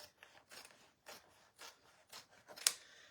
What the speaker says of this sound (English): I'm going to go ahead and cut this piece of fabric here